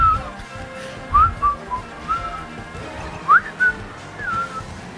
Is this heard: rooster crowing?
no